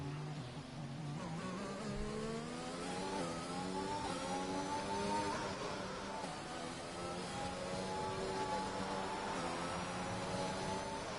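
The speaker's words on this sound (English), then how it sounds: "Harris in the Mercedes, and he's gone for the medium tyre for a nice fresh set." A Mercedes Formula 1 car in the F1 2021 game races at Monaco, its engine a high, continuous whine that rises and shifts in pitch as it accelerates. It is heard alone at moderate volume.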